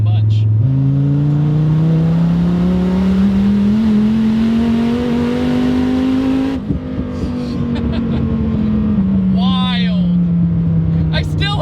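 A 1400 hp twin-turbo Dodge Viper accelerates hard at high RPM, its loud engine note climbing steadily, easing briefly at a shift, then pulling on, with the driver talking over it.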